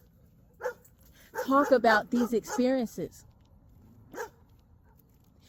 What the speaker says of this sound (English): I think this dog wants to get in on the conversation.